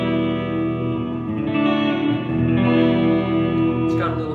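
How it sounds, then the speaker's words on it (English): Haunted Labs Dark Aura guitar effects pedal set all the way up, sustained distorted guitar tones washed in hall-like reverb and echo, a steady shimmering drone that swells slightly throughout, with no voice. "It's got a little bit of like an echo to it, almost like a hall reverb sort of sound, which is really pretty."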